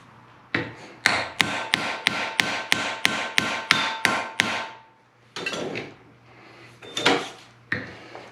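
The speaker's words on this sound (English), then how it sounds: "I'm going to peen over my freaking ends here to help keep this in place." Hammer peening the ends of a packed Damascus steel canister: about ten sharp, ringing metallic blows in a steady rhythm, then a pause and a few more scattered strikes, close and loud.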